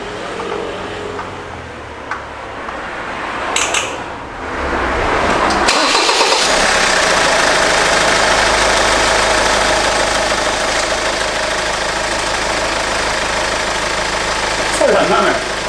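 Car engine cranking and catching during a repair check, a short starter whir followed by the engine settling into a loud, steady idle with a rough, rattling edge that continues to the end.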